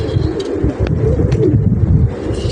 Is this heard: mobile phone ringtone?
no